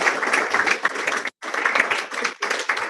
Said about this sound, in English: Yeah, applause.